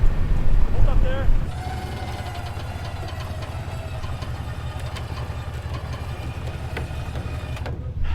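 A Ford Raptor pickup truck's engine runs steadily while it pulls a stuck vehicle out of snow after a storm. It gives a loud, continuous low rumble, and a voice speaks briefly at the start.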